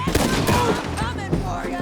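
Gunfire in Red Dead Redemption 2 on PC: a burst of several close, loud shots in quick succession, layered over game music and a voice talking.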